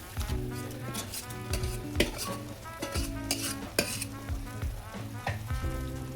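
Mashed cooked lentils and vegetable flowers stirred into a hot pan, giving a steady sizzle with scraping spoon strokes and light utensil clinks against the pan throughout.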